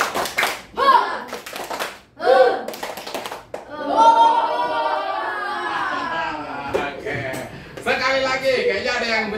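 A primary school class plays a clapping game, bursts of hand claps coming in short rhythmic groups between a teacher's spoken prompts and the children's chatter in a classroom.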